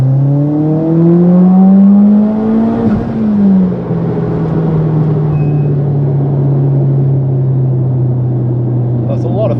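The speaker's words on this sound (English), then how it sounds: "That's just like a half throttle pull, straight onto boost." A turbocharged Mitsubishi EVO X running E85 with a bigger turbo pulls at half throttle onto boost. The engine note drones loud and close, climbing steadily, then dipping briefly before settling into a sustained hum.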